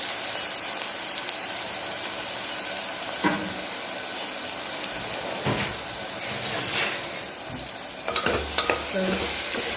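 Onions and potatoes fry over a full gas flame in a pan, giving a loud, steady sizzle broken by scraping stirs and occasional clatter, with no talking.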